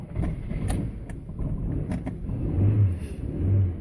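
A cold Rover 400 car engine starts up and runs a little lumpy, a low steady rumble with brief higher whines and clunks, fairly close and moderately loud.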